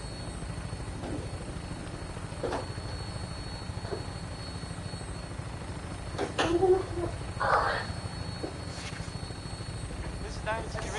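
A Vertibird aircraft from Fallout 4 hums steadily on approach, a constant rotor-like drone with a low rumbling bed. It carries on throughout, with a few brief swells and faint background voices.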